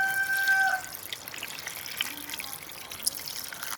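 Liquid ingredients poured into a cooking pan while making ground chili sauce with pounded cassava leaves, a soft steady trickle and splash beneath faint kitchen noise, with a brief high tone early on.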